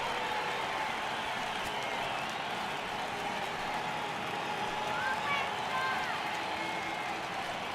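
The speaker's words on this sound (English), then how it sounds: "Crowd gets up for the 3-2." A large baseball stadium crowd in MLB The Show 18, Red Sox hosting Toronto, rises on a full count, sustaining a steady wash of cheering and murmur with a commentator's voice talking over it throughout.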